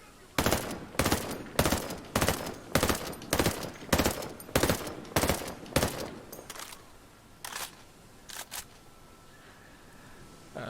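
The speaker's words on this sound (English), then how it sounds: "we'll do one sighting round and then get off as many rounds as we can with the 3-round burst" An M4A1 SCOUT rifle with a suppressor fires in Ghost Recon Breakpoint: a rapid, regular string of about a dozen sharp, loud shots, then a few sparser, quieter pops against a faint room hum.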